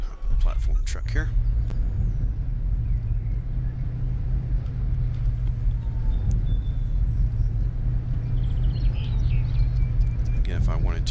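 Engine of a souped-up platform truck in Lumberjack Dynasty, a steady low rumble droning without a break as the vehicle drives along, with a short burst of other sound at the start and end.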